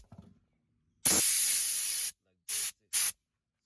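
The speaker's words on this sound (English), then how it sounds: "now what I'm gonna do is I got my compressor, and I got this attachment" A compressor blows air through an attachment while a BMW's drain plugs are cleared, giving one long loud hissing blast followed by two shorter bursts, with faint sounds before.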